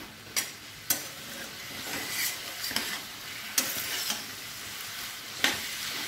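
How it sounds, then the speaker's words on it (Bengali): Spices fry in hot oil in a pan for a spine gourd curry cooked with milk, giving a steady close sizzle broken by several sharp scrapes and clinks of stirring, with no talking. "এটা এবার একটু মশলাটা ভেজে নেব।"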